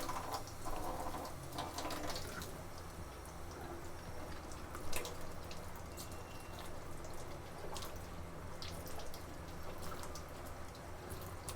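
Asparagus spears are rinsed under running kitchen tap water, a continuous soft splashing and trickling with scattered drips and small clatters, fairly quiet and steady with no talk.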